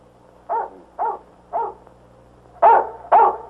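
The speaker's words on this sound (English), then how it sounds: "Well, then what's he barking about?" A dog barks five times in a 1947 Western film scene, three evenly spaced barks followed by two louder ones, alone with no talk.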